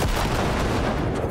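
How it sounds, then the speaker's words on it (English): A grenade exploding in the video game Cyberpunk 2077, a loud, dense blast with a rumbling roar that fills the whole short moment, with no talk. "I didn't actually want to throw a grenade there."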